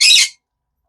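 Pet birds let out a single short, loud, harsh squawk close by, lasting about a third of a second and then cutting to silence.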